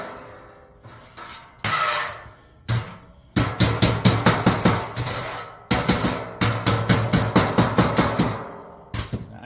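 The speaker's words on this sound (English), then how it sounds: "I kind of like rounded hammers for this for some reason." A rounded hammer strikes sheet metal during HVAC fabrication of a base transition, giving loud, ringing metallic blows in irregular bursts and then rapid runs of repeated strikes, close and without talk.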